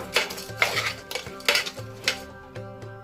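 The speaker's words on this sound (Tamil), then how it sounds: "இது எல்லாத்தையும் சேர்த்து நல்லா கிளறிடலாம்." Metal utensils scrape and clink in a pot as spices with moong dal and chana dal are stirred together for khichdi, with a few sharp, close taps and a faint sizzle underneath.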